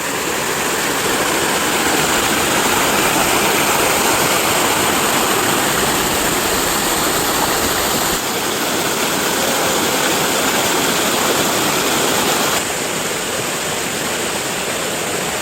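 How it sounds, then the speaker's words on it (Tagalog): Strong water flow pours at Balempalis Spring, a loud, constant broadband roar of a waterfall heard up close, steady throughout with no voices. "malakas ang tubig ngayon"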